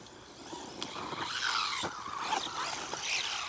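A Rlaarlo AM-D12 1/12-scale RC car whirs and skitters as it tumbles while driving, with a few sharp knocks and scrapes over a rising motor whine, fairly close and continuous.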